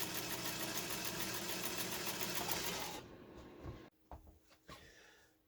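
A Premier class 15 sewing machine runs in a steady, loud mechanical whir for about three seconds, stitching forward and reverse, then stops, leaving a few faint clicks and knocks of the mechanism.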